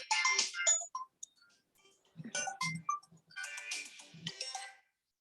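A phone ringtone sounds for an incoming call during a spoken English practice session, playing as repeated bright melodic bursts that pause and restart, fairly loud and close with no talk over it.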